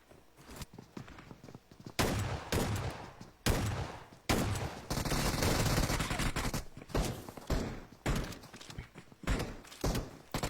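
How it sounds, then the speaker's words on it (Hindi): Rapid bursts of gunfire in the video game PUBG Mobile, with sustained automatic volleys and scattered single shots, loud and close throughout. "लेकिन दोनों एक साथ फायर कर दिए"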